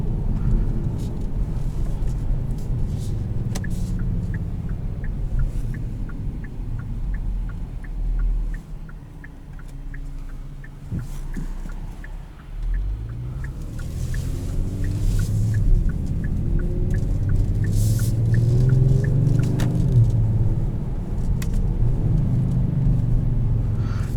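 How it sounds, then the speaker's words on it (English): Twin-turbo V6 of a 2020 Kia Stinger GT2 while driving, a continuous low engine rumble heard from inside the car, swelling briefly as it accelerates. "This has a twin turbo V6 under the hood with a great sound."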